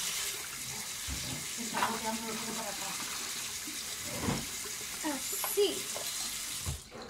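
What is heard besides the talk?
cold tap water running over drained pasta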